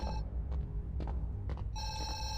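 A telephone rings in the horror game Zoochosis, a steady electronic bell tone that sounds, pauses briefly for a couple of soft throbbing pulses, then rings again, with no talking.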